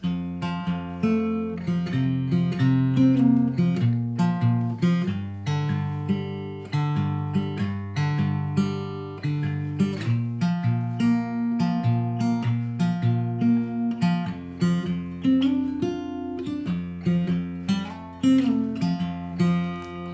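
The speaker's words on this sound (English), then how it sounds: "So coming out, that riff played slowly would sound like this." An acoustic guitar plays a riff slowly, with clear plucked notes and chords ringing out in a steady, unhurried rhythm, solo and close, with no voices.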